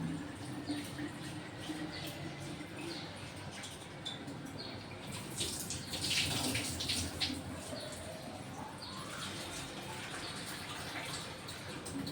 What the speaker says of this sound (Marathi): डाळ धुवून देते स्वच्छ